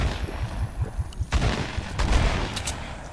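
Rapid bursts of gunfire in the Fortnite battle royale game, during a Chapter 2 Season 3 squads match, with shots cracking in quick uneven clusters that stay fairly loud throughout.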